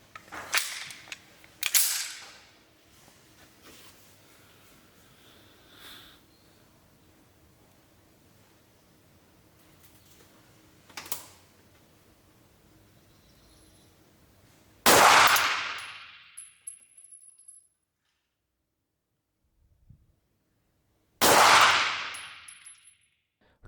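A Sig Sauer P320 polymer pistol fired on a range in a five-round accuracy test: loud, sharp gunshots spaced irregularly across the stretch, some far louder and closer than others, with quiet gaps between them.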